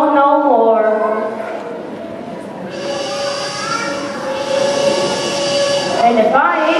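A train sound effect plays during an elementary school Christmas play, with a whistle-like sustained tone and rumbling hiss that fills the hall for several seconds.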